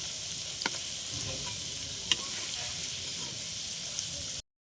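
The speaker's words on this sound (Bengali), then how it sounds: "আমি বলগুলো ভেজে নিচ্ছি" Chicken balls frying in hot oil, an even close sizzle running steadily with a couple of faint ticks and clicks, cutting off abruptly at the end.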